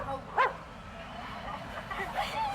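A person imitates a dog barking with two short voiced woofs, close and fairly quiet, followed by faint softer vocal sounds.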